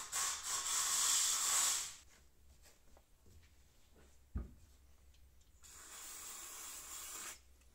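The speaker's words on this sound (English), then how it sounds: "I'm gonna go get that cleaned with the compressed air" Compressed air blown through a brake caliper to clear gunk: a loud close hissing blast, a pause with a brief knock, then a second sustained hiss, with no talk.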